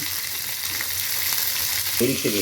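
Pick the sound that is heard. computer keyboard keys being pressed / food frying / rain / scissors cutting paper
food frying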